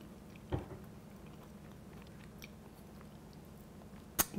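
Someone eats a spoonful of hot Cajun-style Hopping John with black-eyed peas and vegetables, a few faint, close, soft chewing and mouth sounds with two brief clicks, otherwise quiet.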